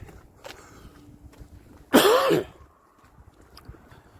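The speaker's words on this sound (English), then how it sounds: "I'm sorry about coughing." A single harsh cough bursts out once in an otherwise quiet space, with faint shuffling and background noise before and after.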